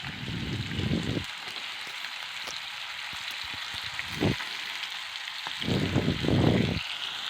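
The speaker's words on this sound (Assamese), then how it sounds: "মাংসটো ফ্ৰাই কৰি লৈছোঁ, কেৰাহীত দিলোঁ, ভাজি আছোঁ এতিয়া" Goat meat fries in a kadai with a steady, close sizzle and hiss throughout, broken by a few low thumps and bursts from stirring or handling the pan.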